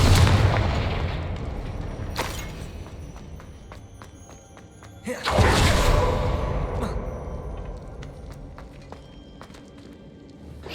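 Confringo blasting spell explosions in Hogwarts Legacy, two loud booming blasts with a rushing impact, the second larger, over continuous rumbling background game sound.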